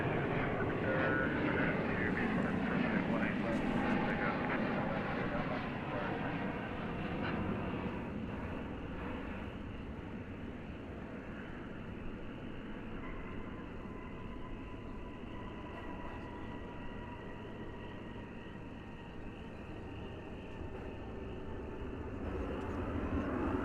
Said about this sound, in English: American Flight 1559, 737-800, right here on runway DFW after dark.